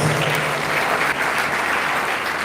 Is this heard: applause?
yes